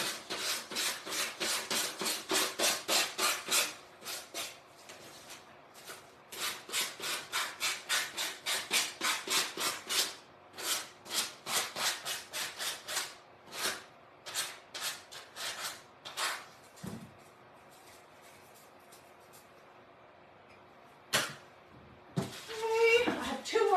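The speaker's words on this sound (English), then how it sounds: "A zillion little pieces of sandpaper." Sandpaper, cut into small Velcro-backed pieces, scrubs wood for a craft banner in quick rhythmic strokes, close and steady. Brief pauses break it up, and the strokes grow sparser toward the end.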